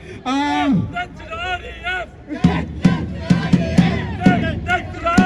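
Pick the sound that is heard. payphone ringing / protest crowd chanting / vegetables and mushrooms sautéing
protest crowd chanting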